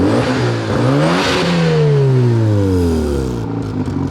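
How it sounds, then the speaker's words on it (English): A Mazda RX-7 FD with a rotary engine revs up loudly and close, pitch sweeping up and down through a couple of throttle blips with a raspy, buzzy tone. "Give it a couple revs."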